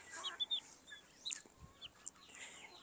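Chicks just over a month old chirp in short high peeps scattered across a quiet background, with a couple of soft low thumps.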